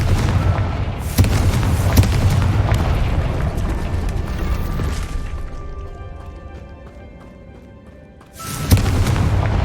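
A Confringo fire spell blasts in Hogwarts Legacy, heard as a loud booming explosion that swells then fades over several seconds, with a second heavy blast hitting near the end.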